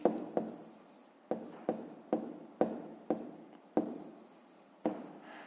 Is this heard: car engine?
no